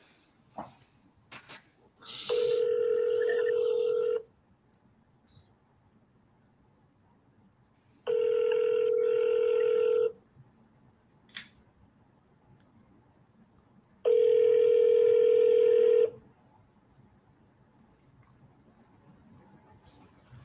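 Outgoing phone call ringing with no answer: three long, steady ring tones spaced several seconds apart, with quiet gaps between them.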